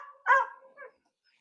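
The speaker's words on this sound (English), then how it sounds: "Sorry, you guys, for the barking." A dog gives one close, sharp bark followed by a softer yip, out in an off-grid desert garden, with nothing else heard around it.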